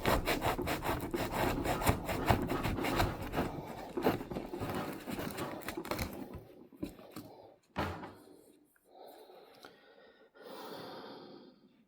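A knife blade cut repeatedly through material in an edge-retention test of a Magnamax steel blade hardened to HRC 64.5, giving a steady, close rasping saw-like scrape for about six seconds, then a few shorter separate strokes.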